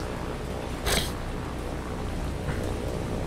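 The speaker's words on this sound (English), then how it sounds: "I hear rain." Rain hisses steadily in a naval combat game, and a sharp crack of thunder breaks through it, followed later by a fainter rumble.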